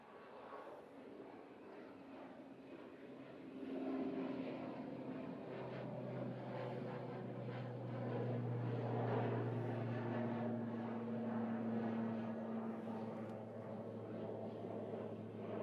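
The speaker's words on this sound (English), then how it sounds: "I can hear a prop, prop, prop" A Loganair ATR 72 turboprop bound for the Isle of Man drones with a low propeller hum and a rising tonal whine as it draws nearer, swelling midway and then easing back, at moderate distance.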